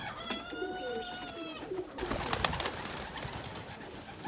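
Domestic pigeons coo softly close by, a few rounded calls in the first half against a quiet loft background.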